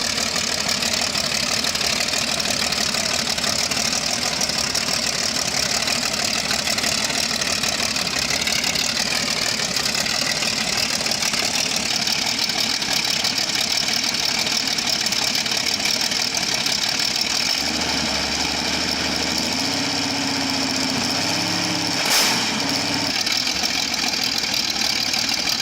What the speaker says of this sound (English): AV1790 engine.